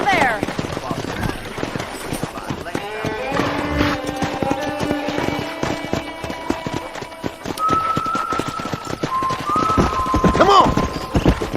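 Horses galloping during a wrangling scene in the video game Red Dead Redemption, with rapid, dense hoofbeats and occasional whinnies over a busy game soundscape. Voices call out under the running hooves.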